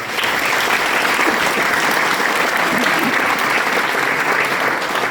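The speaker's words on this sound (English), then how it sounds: "And I'd like you to give her a big round of applause." A large audience gives sustained, loud, dense applause after a presentation speech, the clapping starting abruptly and holding at an even, full level throughout with no talk over it.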